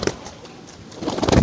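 Racing pigeons cooing close by, a soft low murmuring that grows fuller and louder toward the end.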